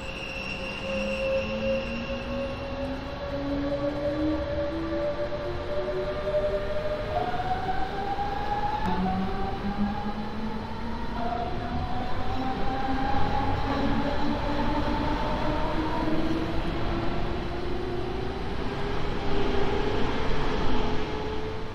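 An S1 Express train departs Wattenscheid station in Train Sim World 2, its electric motor whine climbing steadily in pitch through stepped rising tones over a constant rumble of rolling wheels, loud and continuous with no talking.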